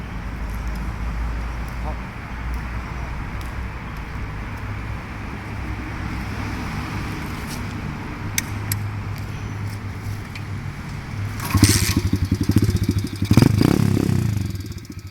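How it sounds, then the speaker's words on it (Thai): A small 125cc dirt bike engine runs at a smooth, steady idle nearby, then breaks into louder clattering bursts near the end. "เสียงเครื่องนุ่มๆนะฮะ"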